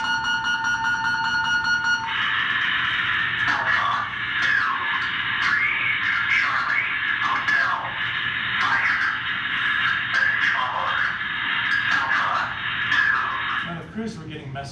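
Titan missile launch order alert coming over VHF radio speakers in a missile control room: a loud electronic tone gives way to a warbling, pulsing alarm with radio static that continues steadily for over ten seconds before cutting off.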